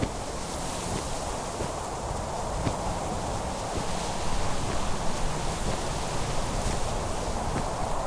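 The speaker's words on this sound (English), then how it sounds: "Sounds a little windy." Steady, even wind blows in the video game Minecraft, a continuous hiss that stays at a constant moderate level throughout with no other sounds.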